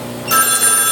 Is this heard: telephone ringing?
yes